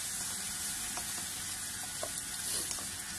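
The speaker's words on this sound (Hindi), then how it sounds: "इसको भी 1 मिनट फ्राई कर लेंगे।" Vegetable noodles seasoned with black pepper and salt fry in a pan with a continuous close hiss, with a few faint stirring clicks over the short stretch.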